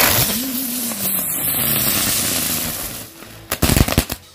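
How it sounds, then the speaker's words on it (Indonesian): A lotus flower firecracker going off on a Ramadan night gives a wavering whistle while it spins, then a short, loud burst of rapid crackling pops near the end. "Kita lihat hasilnya mercon bunga teratai."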